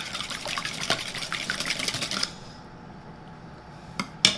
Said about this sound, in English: 1 teaspoon of vanilla extract. And then we're just going to whisk this together.